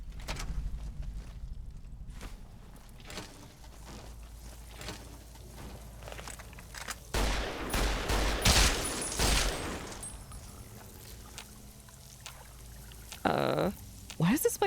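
Gunfire from NCR troopers shooting fiends near the Basin Creek building in Fallout: New Vegas, heard as scattered bursts of shots, a loud cluster partway through amid ambient game noise, with a voice talking at times.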